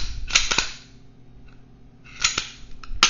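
A Glock 19 Gen 4 pistol's slide is racked to check the chamber, producing a few sharp metallic clacks close up: a pair near the start, another pair later, and a final click.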